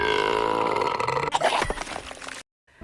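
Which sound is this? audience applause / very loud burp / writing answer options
very loud burp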